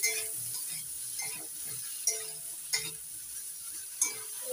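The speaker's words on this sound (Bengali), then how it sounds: "বেগুনটা একটু নাড়াচাড়া করে নিচ্ছি" Eggplant pieces sizzling in oil left over from frying potatoes, stirred in a pan, giving a steady close crackle broken by a few sharp clinks of the spoon against the pan.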